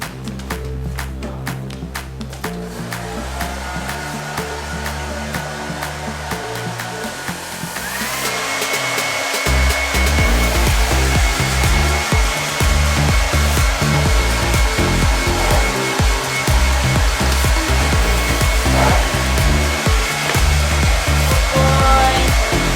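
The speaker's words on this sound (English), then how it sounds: "letting me blow dry his tail" A hair dryer blows on a horse's tail, a loud continuous whooshing roar that rises in strength partway through and then holds steady close to the microphone.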